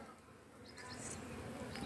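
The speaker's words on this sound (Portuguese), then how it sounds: "Outra abelha aqui, ó." Bee buzzing close by at a flowering brazilwood (pau-brasil) tree, a steady insect drone that swells slightly louder toward the end, with no talk.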